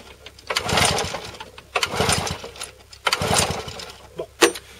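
A Wolf lawn mower engine is pulled over repeatedly without catching, three rough cranking bursts and a final short one, loud and close, with no speech.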